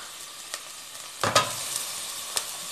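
Onion sizzling steadily in a hot pan for an empadinha filling as tomato goes in, with a brief louder crackle and stir partway through and a few small pops over the constant frying hiss.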